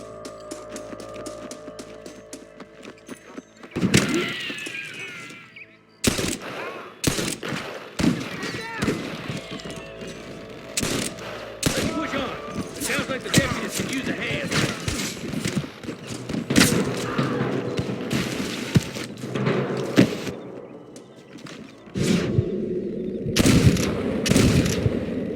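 Gunfire crackles through a Red Dead Redemption shootout, a dense run of sharp, loud shots, some in rapid bursts and some single, with heavy booms and game sounds between them.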